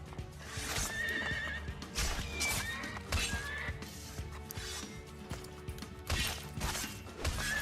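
A horse in Assassin's Creed 2 whinnies repeatedly while hooves clip-clop and thud, with game impacts and clatter between the neighs, fairly close and busy.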